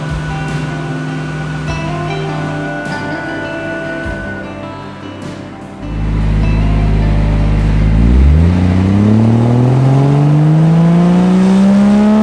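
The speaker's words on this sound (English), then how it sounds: "and Eric are dyno tuning the 32 GTR." A Nissan Skyline GT-R R32 engine strains on a dyno during tuning, holding a loud steady drone, then surging in a rising rev sweep as the pitch climbs under load, close and with no talking.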